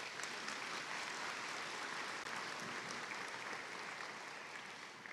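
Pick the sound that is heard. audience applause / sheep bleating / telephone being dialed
audience applause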